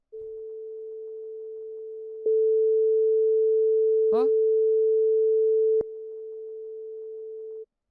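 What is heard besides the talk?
440 Hz sine wave test tone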